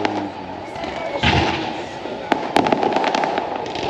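Fourth of July fireworks show in Russellville, Arkansas, with booms and crackling bursts going off at a distance, a couple of sharper reports standing out over a steady background rumble.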